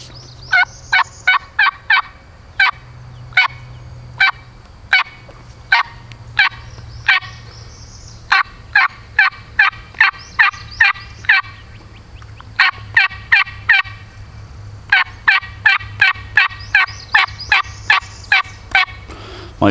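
A person blows a turkey mouth call to imitate turkey gobbles, producing long runs of sharp, rapid, evenly spaced clucking notes with brief gaps between bursts, loud and close with no talking.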